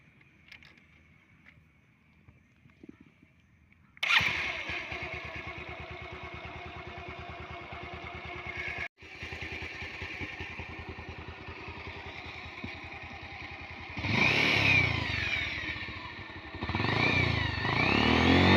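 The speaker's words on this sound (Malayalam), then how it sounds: "അതിൻ്റെ എൻജിൻ സൗണ്ടൊന്ന് ഞാൻ കേൾപ്പിക്കാം." A Bajaj Pulsar 150 motorcycle engine starts after a quiet moment and settles into a steady, close idle, briefly cutting out, then revs up twice louder toward the end.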